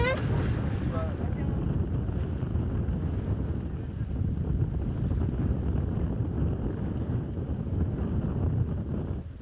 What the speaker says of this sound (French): Il y a 25 nœuds de vent de nord